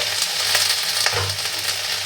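Khar kol leaves seasoned with turmeric and salt fry in a pan with a dense, steady sizzling hiss, close and fairly loud, with a few soft stirring scrapes and no talking.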